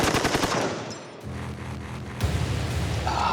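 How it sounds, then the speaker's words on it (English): An M60 machine gun fires a short, loud burst into a pile of powder on the floor, with rapid rattling reports and heavy blast echoes that stop for a moment and then return. "The muzzle blast from the M60 blew the powder completely off the floor before it even had a chance to light it"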